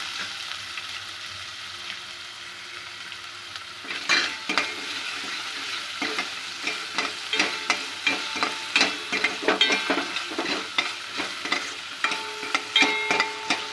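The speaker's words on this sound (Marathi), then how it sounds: "आता आपण कांदा आणि लसूण चांगला तेलामध्ये परतून घेतलाय" Onion and garlic sautéed in hot oil for a Malvani crab curry: a steady sizzle, then from about four seconds a spatula repeatedly scrapes and stirs the pan in irregular strokes, close and fairly loud, with no talking.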